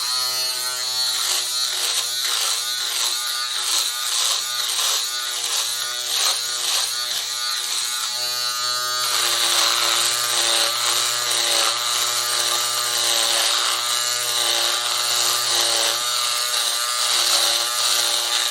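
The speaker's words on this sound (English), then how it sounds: "the shaver just clips in" A Philips Series 5000 11-in-1 trimmer's electric foil shaver attachment buzzes continuously and loudly up close, its tone roughening partway through as it cuts, with no talking.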